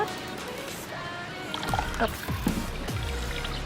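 Rice-washing water mixed with EM4 is poured into a container for kitchen-waste compost, a close splashing trickle that gets louder midway, with a voice speaking briefly.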